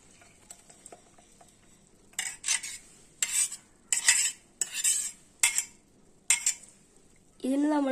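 Blended grape juice is strained in a kitchen, giving clinks and scraping stirs of a utensil against a strainer and bowl in irregular bursts, moderately close, with a brief voice at the end.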